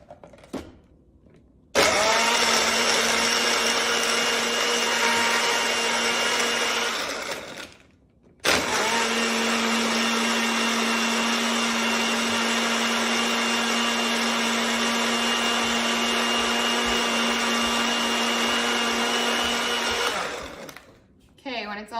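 A Greatogo compact personal bullet blender whirs loudly and steadily as it mixes a protein shake, with one brief pause partway through before the motor starts again and runs on until it stops near the end.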